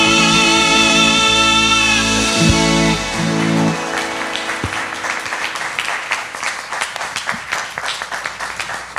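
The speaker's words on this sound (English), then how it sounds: "Clap another hand for Guy." An audience at a live church service applauds after a song, with a sustained held musical chord fading out at first, then dense clapping building and continuing loudly to the end.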